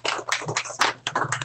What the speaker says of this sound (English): Let's give Doug a round of applause.